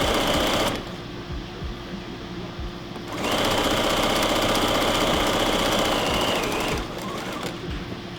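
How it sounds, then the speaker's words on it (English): A sewing machine runs fast while stitching straps for face masks, a steady mechanical whir that speeds up, pauses briefly, then resumes and slows near the end. "you can start laying on some speed here on the machine"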